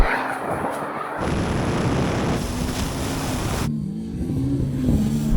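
A Tesla Model S Plaid launching in a drag race, a continuous loud electric whine and roar of rushing wind and road noise that swells and holds, with no one talking.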